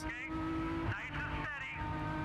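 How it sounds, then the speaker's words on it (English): Race cars in an American Le Mans Series event at Lime Rock roar past close by in a loud, continuous engine blare with rising and falling pitch as they go by, with commentary talking over it. "There's a car this time offline, and that was just enough for Johnny O'Connell to get past."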